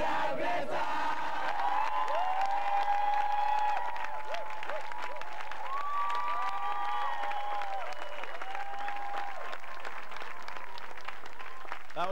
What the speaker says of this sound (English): I think we need to give them another round of applause.